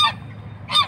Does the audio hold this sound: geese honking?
yes